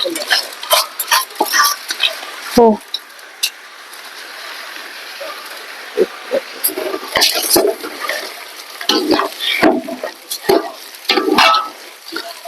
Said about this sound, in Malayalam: നമ്മളിത് ഇളക്കി കൊടുക്കണം ഗൈസ് ഇതിനടി പിടിച്ചു പോകരുത്